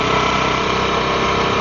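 A motorbike engine idles and runs steadily at close range, a continuous broadband drone with no voices over it.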